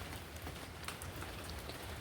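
Continuous rain falls around a house yard, a dense, even hiss of drops with no pauses and no voices.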